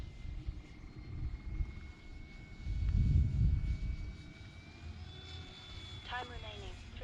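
A remote control airplane flying at dusk has its motor throttled back up to power, the engine drone swelling loudly for a moment before easing, with a person talking over it.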